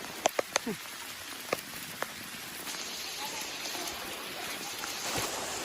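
Heavy rain pours down in a forest during a storm, a constant dense hiss of drops on surfaces with a few sharp nearby taps early on.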